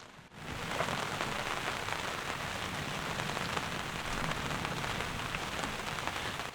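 Steady rain falling on a hillside campsite in Alaska, a dense continuous patter on nearby surfaces, moderately loud and unbroken, with no talk.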